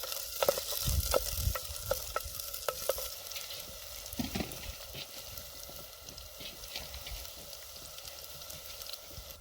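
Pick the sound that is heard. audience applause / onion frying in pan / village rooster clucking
onion frying in pan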